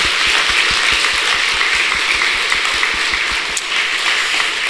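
A church congregation at a Sunday service claps together in loud, dense applause that holds steady from start to finish.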